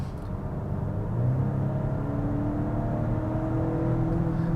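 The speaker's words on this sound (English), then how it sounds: "You can hear a bit of the exhaust." A Volvo V60 Cross Country accelerating uphill in Polestar engineered mode: a steady, moderate exhaust drone and engine hum that holds its revs and rises slightly, heard from inside the car with no talking.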